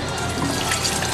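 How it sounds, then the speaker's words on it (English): Water pours steadily and loudly into a pot on the stove holding warmed rice kernels, a brief continuous splashing stream up close. "Now we're going to add 6 cups of water."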